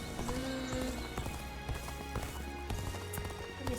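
Horse hooves clip-clopping at a steady galloping rhythm in Dynasty Warriors: Origins, close and continuous, layered over game music and ambience.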